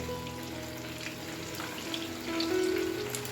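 Paneer pieces frying in hot oil on a gas stove for crispy paneer pakora, a steady close sizzle and bubbling hiss that swells louder toward the end, with no talking.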